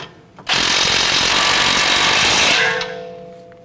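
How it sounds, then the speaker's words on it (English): An impact power tool tightens a strut nut on a 2009-2015 Honda Pilot, a loud continuous rattling hammer for about two seconds that starts abruptly and then winds down, with a lingering mechanical ring. "Let's go ahead and tighten down this nut."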